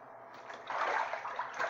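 A pet goose splashing in bathtub water, soft sloshing and splattering that swells midway and continues in uneven bursts, faint and close with no voices.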